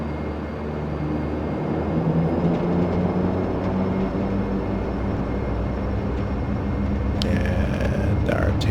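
Engines of a Dash 8 Q400 turboprop at takeoff power in a flight simulator, a steady loud broadband roar with a low hum that holds throughout, joined by a brief higher whine near the end.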